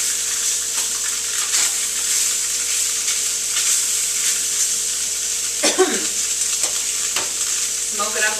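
Food sizzles steadily in a hot frying pan after being flipped, with a soft clatter of a wooden spoon and brief scraping sounds near the end, close and continuous.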